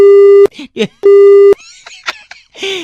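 A loud telephone busy tone beeps twice in long steady bursts, with a person talking briefly between and after the tones.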